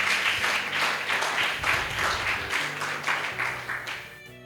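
A church congregation claps in praise during a Spanish-language sermon, a steady burst of many hands that stays fairly loud throughout before cutting off near the end.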